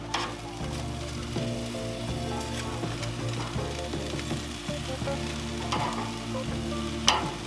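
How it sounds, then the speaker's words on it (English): Tortillas and vegetables sizzle on a Monument grill, a steady close crackling fry with occasional clicks and scrapes, and no one speaks. "go ahead and heat up a few of these tortillas. Get a little char on them."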